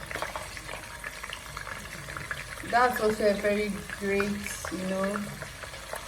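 Meat fries in oil in batches for a Ghanaian waakye (zongo) stew, giving a soft, steady sizzle under a person talking.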